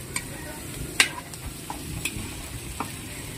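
Pancit noodles sizzle and fry in a pan over a wood fire, with a steady hiss broken by scattered clinks and scrapes of stirring, close and moderately quiet.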